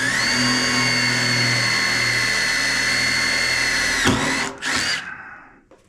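A power drill bores a hole beneath a screw in a car body panel during auto restoration. Its loud, steady whine runs for about four seconds, then cuts off, followed by a couple of short revving bursts as it winds down.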